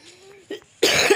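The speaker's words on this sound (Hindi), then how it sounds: "भाई कोल्ड हो गया, मतलब खांसी हो रही है।" A single harsh cough, close to the microphone, preceded by a faint breathy vocal sound.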